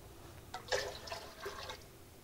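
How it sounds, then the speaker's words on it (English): Fish stock is poured into a pot holding about a liter of water on a stove, a short soft splashing trickle lasting around a second, close and fairly quiet. "I'm going to add the fish stock that we mentioned before."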